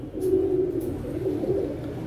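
Teddy pigeons coo in a soft, low, continuous rolling murmur, close and steady, with no voices present.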